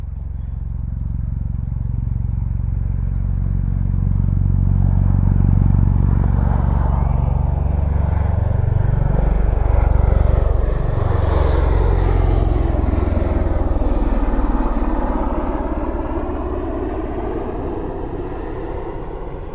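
A V-22 Osprey tiltrotor flies past at RAF Mildenhall with a loud, throbbing low rotor drone whose pitch sweeps downward as it passes close overhead, then fades slightly as it moves away.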